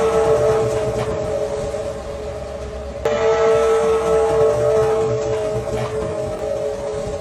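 CP 2816 steam train passing in Mexico, a long sustained whistle blast with a break partway through, loud over rumbling rail noise.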